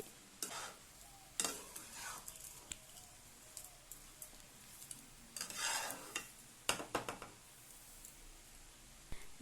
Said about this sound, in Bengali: আবারও সমস্ত কিছুকে ভালোভাবে নাড়াচাড়া করে মিশিয়ে দিচ্ছি যতক্ষণ না জলটা শুকিয়ে যাচ্ছে।